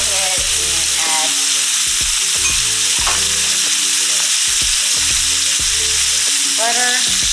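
Steak fries in a pan for a steak sandwich, a loud continuous sizzle broken by repeated knocking and scraping of utensils against the pan, close and with no speech.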